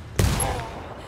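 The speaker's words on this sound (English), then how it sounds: "Taking fire right" A single loud gunshot cracks out in a first-person shooter game, with a short ringing tail and faint in-game effects after it.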